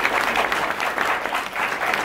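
An audience applauds the leadership board at a multi-level marketing company gathering, a steady burst of many hands clapping that fills the room, with crowd voices faint underneath.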